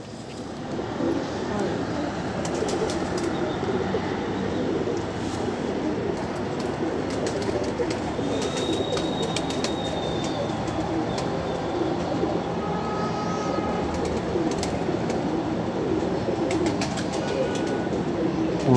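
Pigeons on a rooftop loft of paired breeding birds coo softly amid a dense, steady wash of outdoor noise, with occasional faint high chirps, continuous and fairly close throughout.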